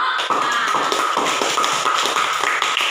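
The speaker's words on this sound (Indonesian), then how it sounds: "Nah, kita kasih aplaus untuk kelompok A." A classroom of students applauds a presenting group with dense, loud, close clapping. The claps stay steady for the full three seconds with no speech.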